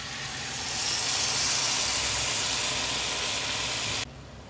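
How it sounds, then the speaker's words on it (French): Water poured into a pot of spiced rice for an oven-chicken meal, a steady broad rushing hiss that builds in the first second and runs loud and even before stopping abruptly near the end, with no talk. "جاجوت لو وراح اضيف الماء"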